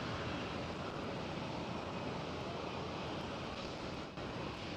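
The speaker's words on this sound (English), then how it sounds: "And this China Airlines freighter 747. Her Majesty, the Queen of the Skies, is lining up on runway 24." A China Airlines Boeing 747 freighter lines up on runway 24 at Amsterdam Schiphol, giving off a dense, steady engine rumble and hiss that holds constant at moderate distance, with no voices.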